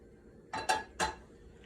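Cooking pots in a home kitchen being grabbed and clanking together, three quick metallic clatters close by with no talking.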